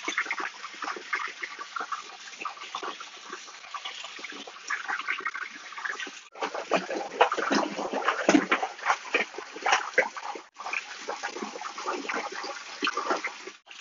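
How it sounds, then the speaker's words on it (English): Water in a hydroponic reservoir being stirred with a nutrient wand or mixing spoon: continuous close sloshing and splashing with irregular swirls and gurgles, growing busier partway through. "then I'll give it a stir with my nutrient wand or a mixing spoon."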